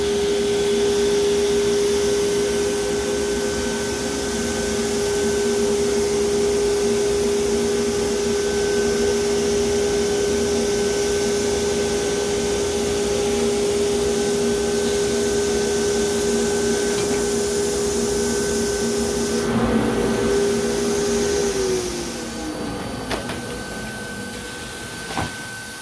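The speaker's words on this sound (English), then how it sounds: "Begin the heat welding process." A Leister hot air heat welder runs steadily while welding a banner, a loud close blowing whoosh with a constant tonal whine that drops in pitch near the end as the machine winds down, followed by a few faint knocks.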